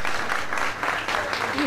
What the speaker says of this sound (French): J'aimerais que ce soir, Tout le monde applaudisse très fort pour le Lion d'Or et surtout pour JB.